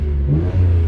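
Nissan Skyline R33 GT-R with GReddy parts revs hard in a single loud, close burst, the engine note climbing with a brief dip before surging again.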